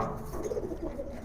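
A pair of Pall line pigeons coo softly and continuously at close range, low rolling calls over a faint background with no talking.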